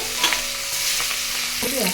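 Bay leaves and whole cumin sizzle and crackle in hot oil used for frying dried fish, a steady close-up frying hiss with a few stirring scrapes.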